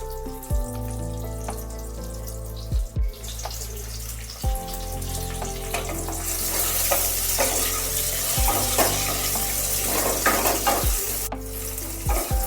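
Pieces of raw mango sizzle and crackle in a hot pan, steady frying hiss with occasional clacks of a spoon stirring, close by.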